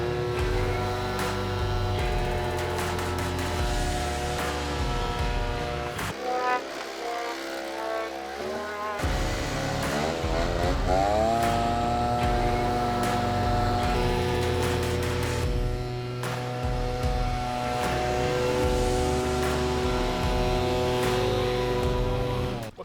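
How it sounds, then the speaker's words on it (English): Two backpack leaf blower motors strapped down on a tugboat, running together as a loud, continuous engine drone with shifting pitch, briefly dipping and revving back up midway. "2 backpack leaf blowers strapped down"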